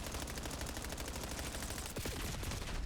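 An M15 rifle fires in the video game Black Ops 7, a rapid automatic burst of steady, evenly spaced shots that runs without a break, fairly quiet and with no talking.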